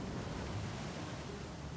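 Ocean surf at a Hawaiian beach known for enormous waves gives a steady, broad wash of rushing noise with no clear breaks, faint and continuous throughout.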